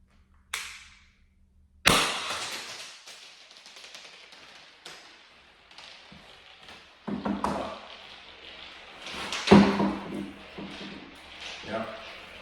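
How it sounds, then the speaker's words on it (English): A Salt Supply S2 salt gun fires projectiles into a milk container: a few sharp cracking impacts spaced several seconds apart, close and loud, with people talking between the shots. "I will be shooting that one open."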